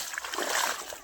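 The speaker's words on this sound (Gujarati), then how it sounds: "તો આપણે એને પાણીથી પલાળી દઈએ" Water splashes and spatters onto castor plants in a field to soften them, a brief, faint burst of watery splashing with no voices.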